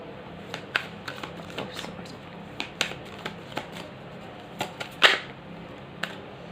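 Tarot cards being shuffled by hand, heard as a steady run of crisp, snappy card flicks and riffles with a few sharper slaps, close and fairly loud over a faint room hiss, with no talking.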